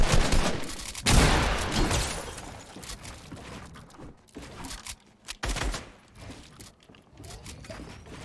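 Rapid automatic gunfire in the Fortnite video game, a loud dense burst at the start followed by scattered shorter volleys and single shots across several seconds, with no speech.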